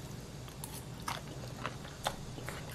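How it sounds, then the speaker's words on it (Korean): Seasoned seaweed stems and a radish salad are chewed close to the mic, with soft crunchy bites and wet mastication sounds spaced through the clip over a steady low background hum. "다 먹어보겠습니다"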